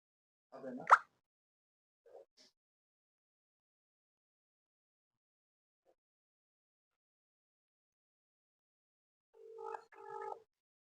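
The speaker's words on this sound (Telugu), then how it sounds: "ఫోన్ అయితే రింగ్ అవుతుంది, చూద్దాం మరి." An outgoing phone call rings back through the line: a faint tap at the start, a long hush, then two short ringing tones close together near the end.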